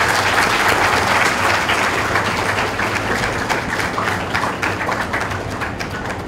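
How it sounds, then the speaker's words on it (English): Dense, loud applause fills a hall as a college chairman is welcomed at a student orientation, a steady wash of many hands clapping without letup. "nvite our Honorable Chairman, Dr. S.C. Vats, amidst roar of clapping"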